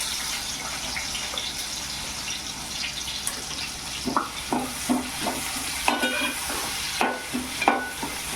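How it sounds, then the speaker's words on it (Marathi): Onion frying in oil in a cooking pot, a steady sizzle under a series of clear, rhythmic scraping stirs that begin midway and repeat every half second or so, close and fairly loud. "आता मी कांदा टाकते बघा आणि कांदा टाकते"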